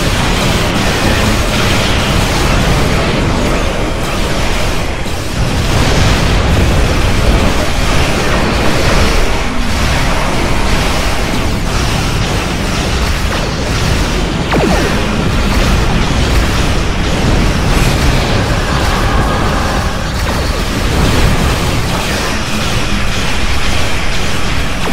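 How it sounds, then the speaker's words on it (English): Rumbling, booming blasts of torpedo explosions in a Star Trek video game, dense and continuous over a roaring, noisy background for the whole stretch. "someone's getting a Vodmore torpedo"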